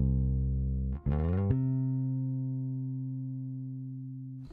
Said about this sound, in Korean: 쭉 가는 톤에서 여러분들이 이제 노이즈를 들리게 되는 거죠